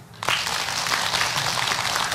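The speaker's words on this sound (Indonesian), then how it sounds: "Mana tepuk tangannya?" An audience at an Islamic talk show breaks into applause, a dense, steady burst of clapping that starts abruptly and holds loud through the short span.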